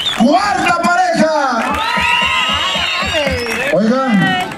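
A crowd at a slapping and spanking contest in Cacalotepec Mixe, Oaxaca, cheers, whoops and shouts loudly for a competing couple, with excited voices rising over one another the whole time.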